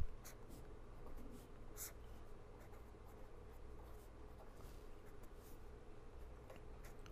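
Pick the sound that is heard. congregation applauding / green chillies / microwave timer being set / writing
writing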